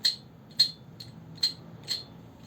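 An angle grinder running rough without bearings, giving sharp, high rattling squeaks that repeat about twice a second over a low hum.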